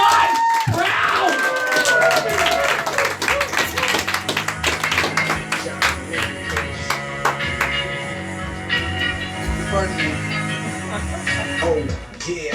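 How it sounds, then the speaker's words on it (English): Comedy club audience at a live stand-up show clapping and cheering, dense sustained applause with whoops and shouts, near and loud, with a voice speaking over it. "Start clapping even fucking louder."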